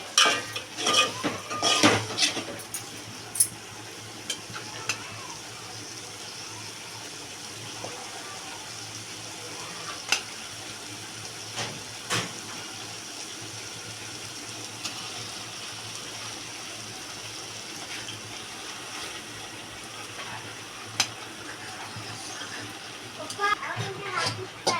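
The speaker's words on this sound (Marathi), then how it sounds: "हे आपण मॅरिनेशन केलेलं चिकन त्यात आता ॲड करणार आहोत" Marinated chicken added to a pan of masala for biryani, with metal spoon scrapes, clinks against the pan and soft sizzling under a voice talking over the cooking.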